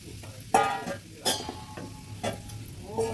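Panch phoron spices crackling in hot oil for a jackfruit curry, a close sizzle with several louder bursts of spattering and stirring scrapes at intervals, no talking.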